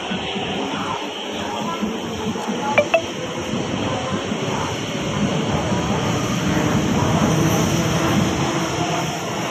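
A low rumbling drone of a Hong Kong MTR subway train pulling away from a station, steadily building in loudness, with a brief metallic clink early on.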